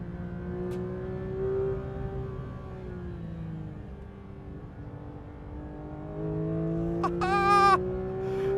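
A Porsche 911 GT3 RS runs a lap on a race track, its engine droning steadily and shifting pitch with speed under a faint voice, then rising into a sharp high rev near the end.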